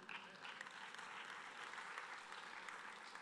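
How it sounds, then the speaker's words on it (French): An audience at the HLM housing congress applauds steadily, a dense, even wash of clapping heard from a distance through a hall, sustained without pause. "vous pouvez applaudir le monde HLM"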